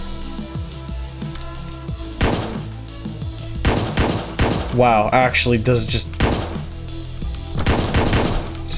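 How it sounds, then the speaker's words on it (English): Rapid gunshots from the video game Hotline Miami 2 crack out in several loud bursts over game music, mixed with thuds, while someone talks excitedly throughout. "Just heard four gunshots right next to his head."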